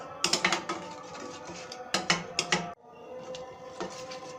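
Milk powder and sugar being stirred in a pan, a utensil knocking and scraping against the metal in quick clusters of clacks over a steady low background, close by, with no voices.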